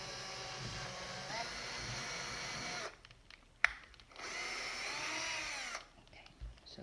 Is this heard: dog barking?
no